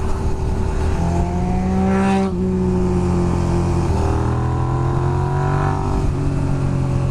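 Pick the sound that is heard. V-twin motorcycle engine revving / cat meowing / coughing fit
V-twin motorcycle engine revving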